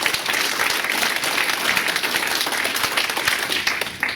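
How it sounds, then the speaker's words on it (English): Audience applause for Kevin Harrington at a transit workers' union veterans appreciation night, a steady dense roar of clapping hands that holds loud and even for several seconds. "we kind of applaud you, Kevin"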